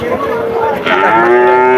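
A bull calf at a cattle market moos loudly and close by, one long drawn-out low call that rises and holds, with no talking.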